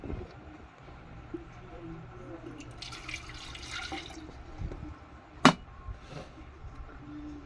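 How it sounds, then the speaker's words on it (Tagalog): Water is poured from a glass into an electric kettle, a soft low trickle and splash with a sharp clink partway through, quiet and close. "Natin yung isang basong tubig."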